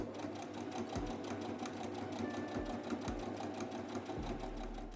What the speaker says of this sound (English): Going to do the same on the second handle.